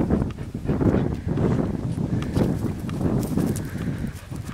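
A horse nearby, with snorting and shuffling hoof sounds against wind noise outdoors.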